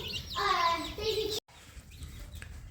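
Chickens cluck and chatter inside a backyard coop under a heat lamp, a burst of close, busy fowl calls for about a second, then quieter scattered clucks after a short gap.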